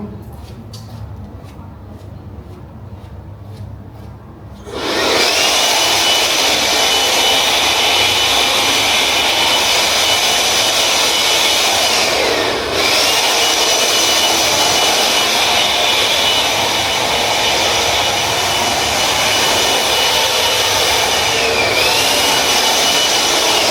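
Compressed-air blower blasting a piece clean: after about five seconds of quieter background it bursts into a loud, steady roaring hiss that holds continuously to the end, with only a couple of brief dips.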